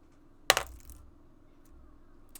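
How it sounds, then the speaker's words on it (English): Dice strike a hard surface in one sharp clatter followed by a few quick bounces, then fade to quiet before a faint tap at the end. "dice roll"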